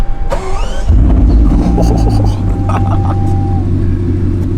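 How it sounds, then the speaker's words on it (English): A Bugatti Chiron Super Sport starts up with a short starter whine, then catches with a loud, deep roar that settles into a steady, heavy idle rumble close by. "Engine on."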